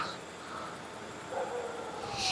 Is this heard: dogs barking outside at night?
yes